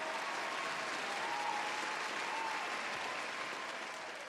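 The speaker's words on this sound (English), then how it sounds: "I was just holding for applause" Steady applause from a studio audience greeting a podcast guest, a dense continuous patter of clapping that holds even and loud for about four seconds before easing slightly at the end.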